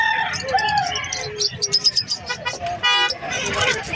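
A Serama rooster crows amid a noisy crowd at a pet market in Bocaue, with chattering voices and other birds around it.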